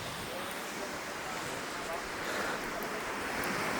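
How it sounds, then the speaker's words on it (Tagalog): Sea waves wash onto a long, empty beach in a steady broadband roar, with wind noise on the microphone, swelling slightly louder toward the end. "Sa napakahabang dalampasigan ng dagat."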